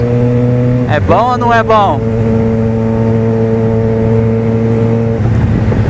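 A Yamaha XJ6 motorcycle ridden at night hums with a steady engine drone, briefly revving up and down before settling into a smooth cruise, while someone speaks over it.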